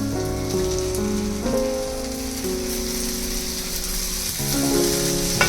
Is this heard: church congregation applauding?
no